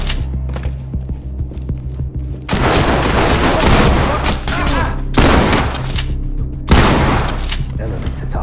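Gunfire in Ready or Not, a tactical police shooter, cracks out in loud, dense bursts of rapid shots with brief gaps between volleys, close and overpowering, with a few faint voices at the start.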